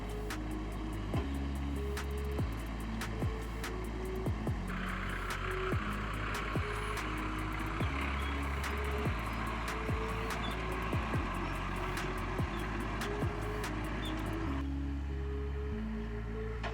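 A 4x4 crawls slowly along a rocky, dusty remote track near a cliff edge, its engine a steady low rumble with repeated knocks and thumps from the tyres and suspension over stones, continuous and close throughout with no talk.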